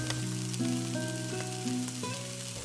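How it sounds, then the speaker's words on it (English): Shrimp sizzle in a pan of hot olive oil over high heat, with a faint, steady frying hiss and a sustained tonal hum running beneath it. "Hear that sizzle? That's exactly what you want."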